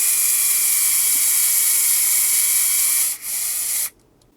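A small high-pitched electric driver spins button head screws into a Tamiya TB EVO 6 RC car chassis, a steady whining drone with a brief dip near the end before cutting off abruptly.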